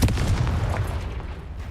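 A fiery Confringo spell blast from the video game Hogwarts Legacy, a short boomy explosion that rumbles low and dense for under two seconds with no talk.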